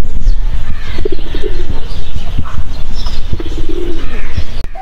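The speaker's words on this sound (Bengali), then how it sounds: "পাখির বড় একটি খাঁচা দিয়ে কিন্তু পাখি রাখা হয়েছে এবং কবুতর রাখা হয়েছে" Pigeons cooing and other birds calling in a large zoo aviary cage at a cantonment zoo, a steady cluster of soft coos and chirps close by over continuous background noise.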